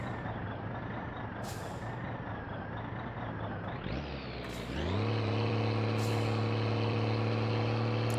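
Car with gearbox trouble in My Winter Car, droning at speed; the engine tone dips and slides in a rough gear change midway, then settles into a louder, steadier, higher-revving hum, with no voices.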